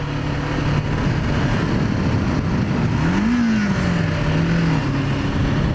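A Kawasaki Ninja 500R motorcycle engine idles with a steady, fairly quiet low drone, rising briefly in a gentle rev before settling back to idle.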